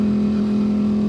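A Ducati Streetfighter V4 motorcycle fitted with a Termignoni exhaust holds a loud, close, steady engine drone at an even pitch for about a second, with no clear rise or fall in revs.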